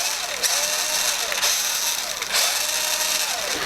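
Whirring, ratcheting gear noise from a switched-on toy vehicle as its steering and throttle work, rising and falling in repeated short sweeps about once a second, close and steady.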